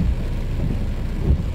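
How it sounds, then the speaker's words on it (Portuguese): Heavy rain pours down in Porto Alegre traffic in a steady, low, rumbling wash with no break, muffled as if heard from inside a vehicle. "E olha a chuvarada caindo."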